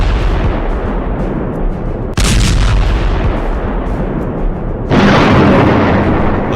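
Heavy explosive blasts from bombing in Gaza boom out with rumbling roar; two loud bursts hit a few seconds apart over a continuous low din.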